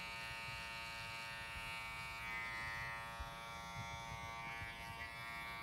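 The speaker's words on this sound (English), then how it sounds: "you put the trimmer down, swipe against the grain" A modified electric hair trimmer hums in a steady, thin buzz during a boy's haircut, close and unbroken with slight wavers as it moves, no voices heard.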